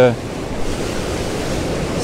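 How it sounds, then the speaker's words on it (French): Sea waves roll in at an exposed seashore under steady wind, a constant washing surf roar with wind buffeting the microphone. "On est un peu plus exposé au vent. Il y a un peu plus de vagues, plus de rouleaux."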